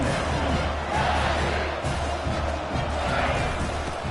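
A large stadium crowd in a college football video game roars and yells continuously, a dense wall of cheering voices with a steady low rumble underneath, loud and sustained throughout.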